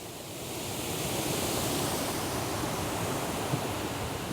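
Steady broadband rush of the Mill River pouring over a waterfall, close and continuous at an even level throughout, with no talk.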